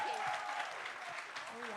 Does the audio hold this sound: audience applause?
yes